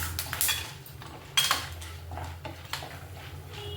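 Chana dal tipped into a hot pan of oil with peanuts while making cucumber pickle, giving a couple of short rattling, sizzling bursts that are close and moderately loud, followed by softer clinks and pan scrapes; nobody speaks.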